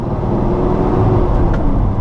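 A 1970 Chevrolet Chevelle SS engine with headers idles with a steady, rumbling low drone, loud and close, with no one speaking.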